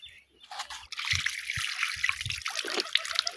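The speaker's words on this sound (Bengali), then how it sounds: "এই তো হাত ধুয়ে নিচ্ছি" Hands are rinsed under a trickle of water, a steady splashing and dribbling that starts after a brief pause and continues up close with no talking.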